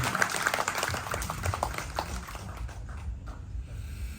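An audience at a gathering at Pura Dalem Khayangan temple in Tanjung Benoa, Bali, claps in a dense burst of applause that gradually thins and softens.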